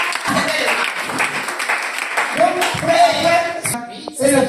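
A church congregation claps and applauds loudly to acclaim Jesus after a healing testimony, dense clapping running throughout with voices and shouts mixed in.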